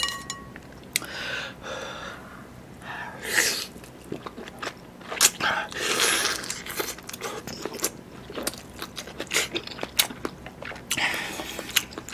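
Close crunching bites and wet chewing of food topped with wild chives, eaten alongside fish cake and banquet noodles on a rainy day, in irregular bursts with occasional soft breaths and a faint clink.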